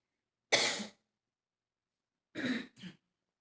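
One throat clear breaks the quiet, then after a pause comes a short double cough. Both are close and clear in an otherwise silent room.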